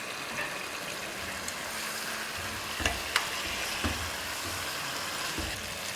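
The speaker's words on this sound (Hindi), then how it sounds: "तब आप मसाले को पहले भून लें, फिर पाए को ऐड करें और फिर 2-3 मिनट भून लें।" Paya (trotters) frying in masala with yogurt hiss and crackle steadily up close, broken by a few light clicks and scrapes of a spoon against the pot, with no voices.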